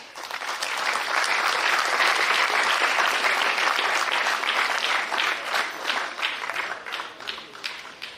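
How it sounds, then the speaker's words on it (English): Loud, sustained applause rises from the audience at the inauguration of an Indian sailing league, a dense wash of clapping that swells and then thins into scattered claps near the end. "So let's have a round of applause for them."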